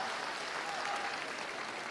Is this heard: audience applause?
yes